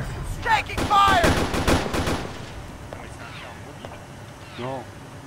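Bursts of rapid gunfire crack out during a co-op video game campaign mission, loud and close in the first two seconds, then trailing off into sparser distant shots, with voices calling out over the firing.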